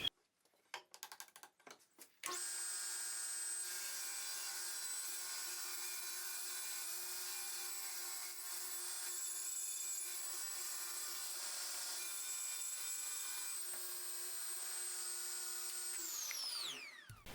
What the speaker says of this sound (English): I'm just going to take it to the table saw, and I'm going to remove any of the nasty edges